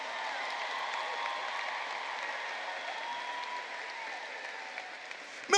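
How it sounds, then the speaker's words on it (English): High school graduation audience applauding the class of 2023, a steady, fairly distant wash of many hands clapping that holds evenly throughout, with a brief louder knock at the very end. "a round of applause"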